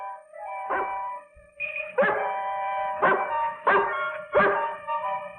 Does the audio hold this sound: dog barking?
yes